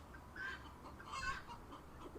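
A hen clucking after laying an egg, two faint, distant bursts of squawking calls over low background noise.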